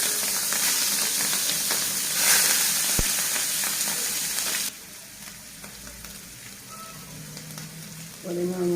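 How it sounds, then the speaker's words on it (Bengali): Prawns sizzle and crackle loudly in hot oil in a home kitchen, a dense steady fry that drops to a softer, quieter sizzle partway through, with a few light utensil clinks. "তেল গরম হয়ে গেছে, আমি এবার চিংড়ি মাছগুলো ভেজে নেব।"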